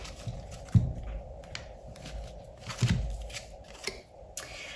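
Oracle cards are shuffled and drawn in a quiet room, with soft papery riffles, slides and a few sharper flicks coming in short separate bursts, close by and gentle.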